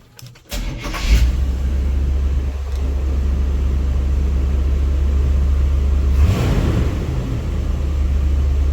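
A 1973–87 Chevy C10 square-body with a small-block and Edelbrock carburetor cranks briefly, catches and settles into a steady, loud, rumbling idle, with a short rise in revs midway before it evens out again.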